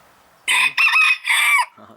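A young silver Sebright rooster crows close by and loud in three quick, brassy segments lasting about a second overall, with a soft cluck just afterward.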